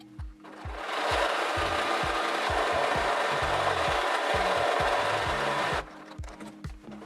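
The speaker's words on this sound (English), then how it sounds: "It's good to do a test buttonhole on the machine." A sewing machine stitches a test buttonhole on a garment with a front yoke, a steady close mechanical whir with rapid repeated low thumps running for about five seconds before stopping.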